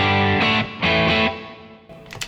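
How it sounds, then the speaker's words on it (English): Electric guitar pushed through a drive pedal into an amp, giving a gritty fuzz tone: two sustained distorted chords ring loud, then decay into a quieter tail with a brief strum at the end. "you can almost get those sort of fuzz tones out of it."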